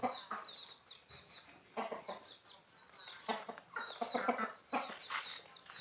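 Farm chickens cluck repeatedly in short, irregular bursts, several birds calling close by over a quiet background with no talking.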